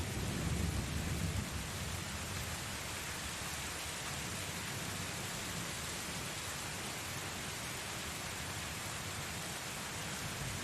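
Constant rain ambience with a low rumble of thunder, a broadband wash of steady falling rain with a louder surge at the very start, no voices.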